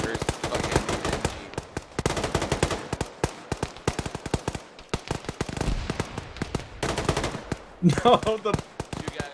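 A bunker-mounted heavy machine gun in an Arma battle fires loud, rapid bursts that go on almost without pause. Other shots and a few brief spoken words sound alongside the bursts.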